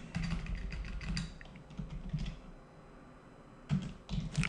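Code being typed on a computer keyboard in bursts of quick key clicks, with a short pause before a final flurry of keystrokes, close and fairly quiet.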